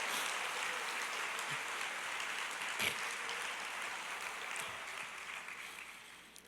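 A church congregation applauds during a worship service, a soft, diffuse wash of many hands clapping that holds steady and then gradually fades away.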